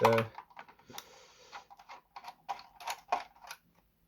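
Back cover screws come out of a WPL B24 RC truck: faint, close-up small clicks, ticks and scrapes from the screwdriver and plastic body, irregular and quiet.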